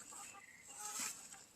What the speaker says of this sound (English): Here comes some happy chickens.